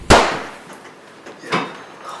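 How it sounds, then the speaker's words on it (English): Gunshots in an active shooter scenario: a sharp, loud crack at the start, then a second fainter report about a second and a half later, with no voices. "Are you sure that was a gunshot?"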